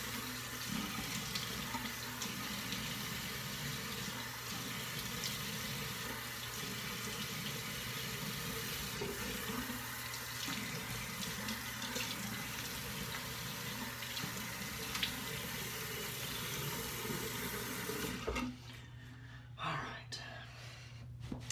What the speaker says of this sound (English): let me rinse some alum off